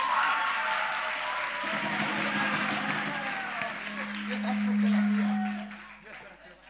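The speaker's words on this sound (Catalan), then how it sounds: "Un aplaudiment per Iku!" Audience applause at a Catalan digital culture event, continuous clapping from a crowd mixed with voices talking over it and a sustained low horn-like tone, fading toward the end.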